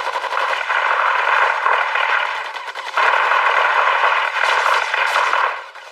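Sustained rapid gunfire from an English-dubbed animated show, loud and continuous with a short break near the middle, then tapering off at the end.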